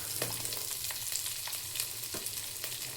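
Green chillies and onions fry in hot oil for egg fried noodles, a steady close sizzle with soft crackles and the occasional scrape of stirring.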